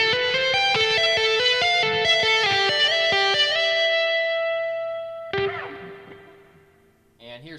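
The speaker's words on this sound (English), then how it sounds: "I come back to that initial theme where I'm doing slides and tapping right in this area" Electric guitar soloing in the Aeolian mode, with slides and tapped notes forming a quick melodic run that settles into a long sustained note, then a brief burst of picked notes, with echo and reverb.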